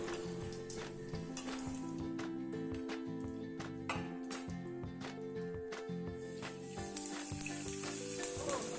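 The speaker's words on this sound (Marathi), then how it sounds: "याच पद्धतीने मी डिंकाची पावडर तेलामध्ये टाकून तळून घेते आहे।" Edible gum (gond) powder sizzles and bubbles as it fries in hot oil, a steady close crackle with occasional spoon clinks and stirring, no voices.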